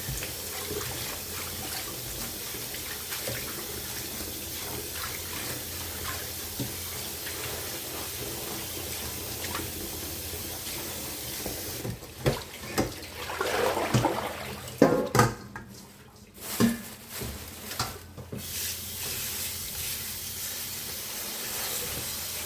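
Tap water runs in a steady hiss while kangkong vegetables are washed at a sink, with louder splashing and clattering bursts in the second half as the leaves are rinsed.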